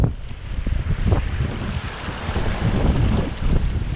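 Wind gusting at a riverside during fishing, a close, rumbling blustery roar buffeting the microphone throughout, and no one talking.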